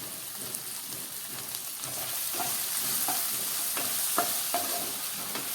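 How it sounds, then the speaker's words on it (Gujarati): Capsicum curry with turmeric, Kashmiri chilli and coriander-cumin powder sizzles steadily in a pan while a spoon stirs it, scraping now and then, close up with no talk. "આ બધું ઉમેર્યા પછી આપણે શાકને ફેરવી લઈએ ઉપર નીચે કરી લઈએ"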